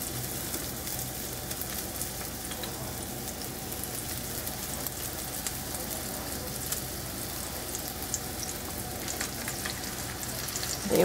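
Meatballs fry in a pan of hot oil, a dense, even, close sizzle like steady rain that carries on without a break and swells slightly at the very end.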